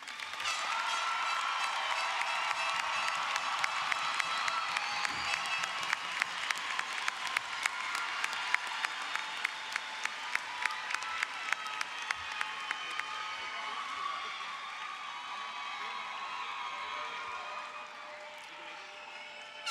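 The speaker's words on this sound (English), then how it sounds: "A big round of applause for all our graduates." A large crowd at a high school graduation ceremony applauds and cheers for the graduates, sustained clapping with shouts rising through the middle, then easing off toward the end, heard from a distance.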